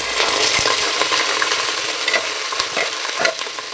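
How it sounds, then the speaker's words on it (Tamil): Onions and curry leaves sautéing in hot oil with cinnamon and cloves for mushroom biryani: loud, close crackling sizzle with scraping stirs and a few light metallic clinks. "நல்லா கோல்டன் ப்ரௌன் ஆகிற வரைக்கும் நல்லா வதக்கிக்கலாம்"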